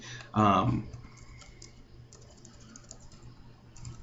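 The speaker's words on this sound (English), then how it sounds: "you could type in anything you want" Light clicks from typing on a computer keyboard tap away at close range after a brief burst of speech, continuing faintly and irregularly to the end.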